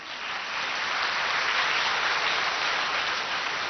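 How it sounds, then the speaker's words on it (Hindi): A spiritual gathering's audience claps together after a discourse on contentment, a steady, even wash of many hands that swells slightly and holds, fairly distant and without voices. "भले ताली बजाओ।"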